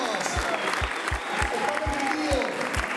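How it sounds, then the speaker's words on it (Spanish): Applause and cheering welcome participants to a pasta cooking class, with broadband clapping throughout and a steady rhythmic low thump beating under it, like stomping or music, while voices shout over the crowd. "Un gran aplauso, bienvenidos todos a Moribasta."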